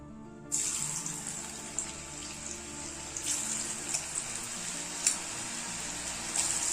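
Chicken pieces dropped into hot oil in a kadai, bursting into a loud, bright hiss that holds steady with occasional sharper crackles and pops, close up and without talk.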